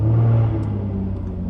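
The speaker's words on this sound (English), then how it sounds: "I'll start up the V6 supercharged engine" A supercharged V6 in a Jaguar F-Type idles with a deep, steady rumble just after startup, holding slightly elevated revs, heard close with no talk.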